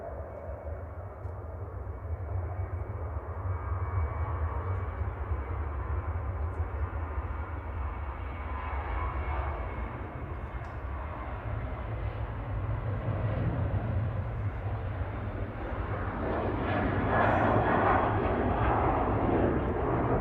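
A tanker aircraft approaches Manchester Airport at sunset: a steady low engine rumble with broadband roar that builds and grows louder toward the end, with no talk.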